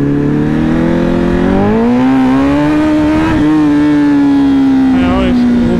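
A Honda CBR1000RR motorcycle engine revs hard at full throttle in first gear, the pitch climbing steadily then holding as it pulls, loud and close, with a brief shift-like dip near the end.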